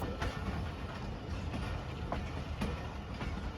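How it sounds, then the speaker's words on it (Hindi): The Pakistan Express runs on the Wazirabad–Khanewal branch line through rural Punjab, a continuous rolling rumble heard from inside, with faint periodic rail clicks and no voices. "ट्रेन अपने एग्जैक्ट टाइम पर वज़ीराबाद जंक्शन से डिपार्ट हो चुकी है"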